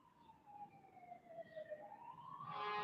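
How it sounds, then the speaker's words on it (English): Fire engine sirens wail past in the street, a steady rising-and-falling tone that swells louder toward the end as the trucks draw near, with road traffic rumbling underneath. "There's fire engines going past me."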